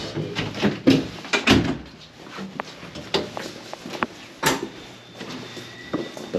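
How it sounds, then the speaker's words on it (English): A heavy small door in a Bronx apartment tower stairwell thuds and clatters as it is opened and shut, with several sharp knocks and scrapes spread irregularly over a quiet indoor background. "Heavy ass small door."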